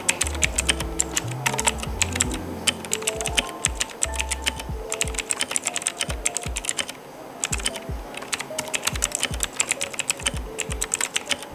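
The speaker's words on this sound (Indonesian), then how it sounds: "Terus gimana suara ngetiknya?" Continuous rapid typing on an E-Yooso Z11 mechanical keyboard, close and clear, with dense clacky keystrokes in uneven bursts and a few short pauses, no voices.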